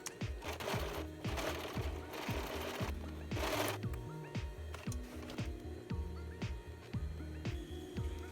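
A serger runs down the side seams of a small knit crewneck sweater for a doll, giving a close, rhythmic mechanical chugging in quick repeated strokes with brief louder whirring bursts.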